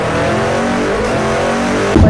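A motorcycle fitted with a Villain Carbon 370 exhaust holds a steady, loud, close revving drone, ending in a sharp louder blip.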